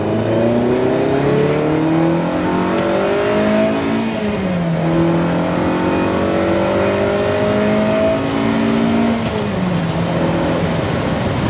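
A Ferrari 308 engine with a freshly repaired distributor revs hard to about 6,000 rpm, a loud continuous howl rising and falling in pitch, close and steady with no talk.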